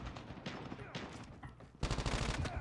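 Gunfire in Call of Duty Mobile: rapid bursts of automatic fire crackle in clustered volleys, pausing briefly before a louder, denser burst near the end.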